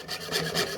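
A hand saw cuts metal beside a drilled hole, its rapid back-and-forth rasping strokes close and fairly quiet, about five strokes in a steady rhythm with no talking.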